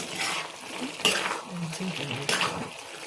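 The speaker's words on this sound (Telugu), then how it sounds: "ఒకసారి కలుపుకుందాం" Brinjal and potato curry being stirred in a pan: a few close, scraping strokes with soft wet sloshing, repeated over about three seconds.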